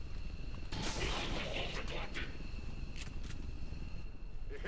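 A soldier's gunfire from the XCOM 2 video game: a few sharp shots and bursts ring out over a dense, steady game soundscape, fairly close and prominent.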